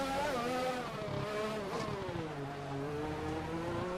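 Formula 1 race cars at Abu Dhabi in the F1 2021 video game roar side by side during an overtake, with layered engine tones rising and shifting pitch and a steady loud drone throughout and no talking.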